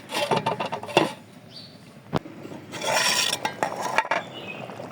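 A khichuri pot on a clay stove being covered with its lid, heard as close metallic clanks and scrapes, with a sharp knock in the middle and some rubbing and clatter afterward.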